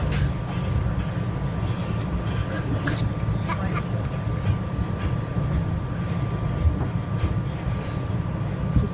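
A passing train rumbles steadily with a low, continuous roll and faint rhythmic clicks of the wheels on the rails. Soft voices murmur over it.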